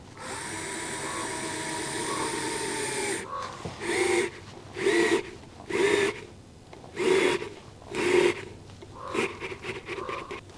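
A power driver on its first torque setting whirs and drives general wood screws into wood, with a continuous motor drone followed by a series of five or six short, loud bursts.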